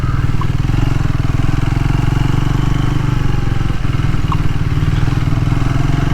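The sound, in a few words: Triumph Tracker 400 motorcycle riding and shifting gears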